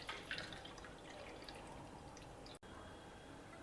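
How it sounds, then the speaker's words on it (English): Water from millet soaked overnight drains away in a faint, steady trickle with light dripping, alone and without talk. "We will just drain out the water."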